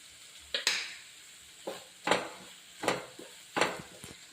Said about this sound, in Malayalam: വൃത്തിയായിട്ട് ഇളക്കി മസാലകളിലേക്ക് ആ പച്ചമണം ഒന്ന് മാറണം